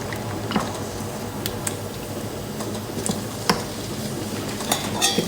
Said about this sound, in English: Just let that simmer away.